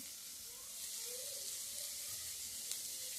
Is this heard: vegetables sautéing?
yes